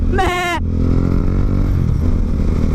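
A single goat bleat rings out briefly over a steady low engine rumble, close by, followed by only the running motor.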